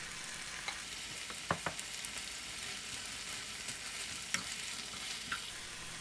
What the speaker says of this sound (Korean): 김치 한 줌을 팬에 담고 채 썬 양파 반 개, 설탕 1티스푼을 넣고 볶아주세요.